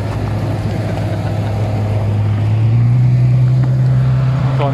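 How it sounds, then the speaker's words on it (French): A Ferrari F12 Berlinetta drives past at an Italian car meeting, its engine tone rising and holding as a loud, steady growl close by, with other traffic noise around it. "Allez, quelques Ferrari qui passent."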